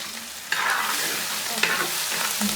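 Grated coconut frying in oil with crushed garlic and ginger for a Christmas beef curry: a dense, loud sizzle with a few bursts of scraping as it is stirred, very close, with no one talking.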